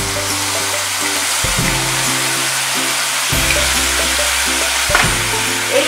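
Ground tomato paste frying with spices and salt in a pan for a tangy okra dish, a loud, dense crackling sizzle running throughout with a low steady hum beneath.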